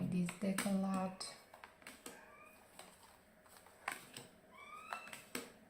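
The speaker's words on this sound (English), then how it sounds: "if you hear some noises, it's my cat screaming at me" A pet cat meows several times in a home kitchen, short harmonic cries early on and fainter chirpy calls later, mixed with small clicks and taps, fairly close but quiet.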